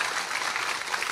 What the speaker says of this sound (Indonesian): Tepuk tangan untuk panitia, luar biasa.